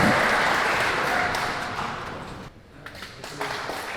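A crowd applauds at a final gala of a municipal safety day in Celestynów, Poland, honoring youth fire brigade teams; dense, loud clapping that dips briefly midway and then picks up again.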